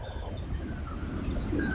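Small birds chirp outdoors in a series of quick, high tweets that grow busier toward the end, moderately close over a low steady background murmur.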